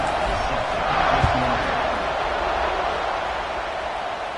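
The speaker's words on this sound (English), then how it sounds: "this crowd is buzzing after that last score" A college football stadium crowd keeps up a steady, broad roar of buzzing noise, holding level throughout with a slight swell in the middle and no distinct cheers standing out.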